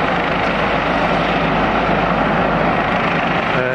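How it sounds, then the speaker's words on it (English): A helicopter approaches from behind during a SWAT-style vessel boarding over water. Its loud, steady rotor and engine roar stays constant for the whole short stretch. "The helicopter is approaching from behind."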